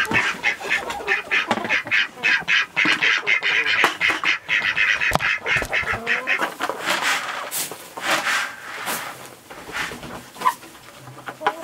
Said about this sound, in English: I think the ducks are waiting for their morning cup of coffee.